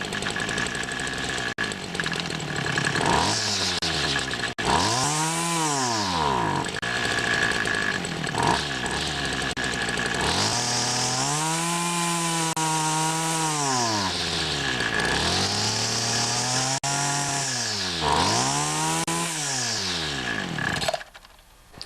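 Homelite SX135 Bandit two-stroke weed wacker engine running rich, revving up and down in repeated surges between a rough idle and a loud, wavering high whine, close by.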